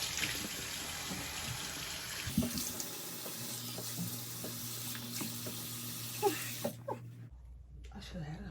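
Water runs steadily from a sink tap while skincare product is rinsed off, with close splashing and small knocks, and the flow stops near the end.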